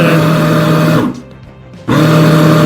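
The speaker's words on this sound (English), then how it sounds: "mixing it with the processor" A food processor whirs loudly as it mixes kebab meat, cutting out briefly before spinning back up with a steady mechanical drone.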